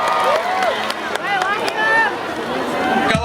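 Crowd at a live outdoor concert for the South Sulawesi anniversary cheering and applauding a guitarist, a steady dense roar with whistles and shouts running through the whole stretch.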